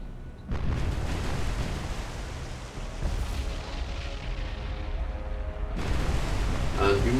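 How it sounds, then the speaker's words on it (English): A magazine explosion rips through the destroyer Kamikaze in the naval combat game War on the Sea, a loud, continuous, rumbling blast roar that starts abruptly and holds steady, then surges again near the end. "you might have heard about kamikaze, which has just suffered a magazine explosion"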